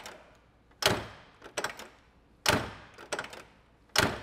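A solid door of a 1972 Oldsmobile 442 convertible slams shut three times at steady intervals, each heavy thunk followed by softer latch clicks and rattles, close and otherwise quiet.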